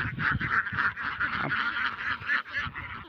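Ducks give a continuous run of loud, nasal honking quacks up close, several calls overlapping in quick succession while they feed on soft water hyacinth.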